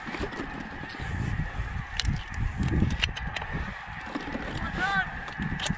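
Geese honk in a busy, overlapping chorus during a goose hunt with white snow geese, loud and close over rustling and wind, with voices talking briefly.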